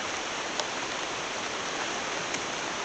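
Steady, dense hiss of heavy rain pours continuously and evenly, with a couple of faint drip ticks and no voices heard.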